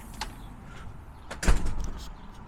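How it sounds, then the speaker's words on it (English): A house front door is opened and shut outdoors, with a clear thud and rattle near the middle, preceded by softer handle and movement noises, close by and without talk. "Going out the front door."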